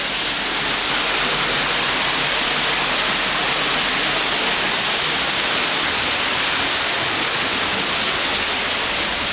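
A waterfall in the Singapore Botanic Gardens, close by, gives a steady, loud rushing roar of falling water that holds unbroken throughout, with no voices over it.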